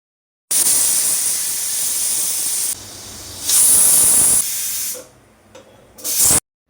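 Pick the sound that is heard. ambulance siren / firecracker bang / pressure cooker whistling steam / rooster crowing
pressure cooker whistling steam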